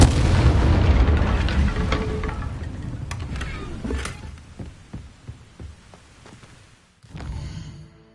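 An Incendio fire spell is cast in Hogwarts Legacy on PS5, bursting out as a loud, rumbling boom that decays into scattered crackling pops, with a smaller burst near the end.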